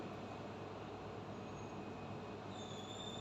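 Quiet, steady rumble inside a moving passenger train, an even low hum of wheels and carriage with a faint high squeal near the end and no talking.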